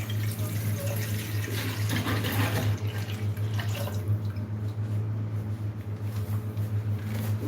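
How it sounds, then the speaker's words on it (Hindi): Tap water pours into a pot during home cooking, a steady broadband rush running for several seconds over a low electrical hum, with no talking. "तो थोड़ा पानी डाल देना लो।"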